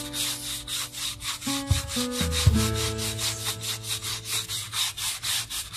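Black rubber wheel polished by hand rubbing, a close repeated back-and-forth swishing rub in a steady rhythm, with a few low tonal hums in the background.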